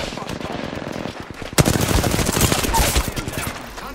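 Rapid gunfire in an Apex Legends arena match: dense bursts of automatic shots, sparse at first then a loud sustained volley, with a voice briefly heard.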